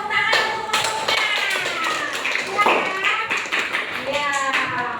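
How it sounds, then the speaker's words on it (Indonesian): A class of children claps for a group in a classroom, a dense burst of many hands tapping close by, steady throughout with chatter and voices mixed in. "Ya, tepuk tangan untuk kelompoknya."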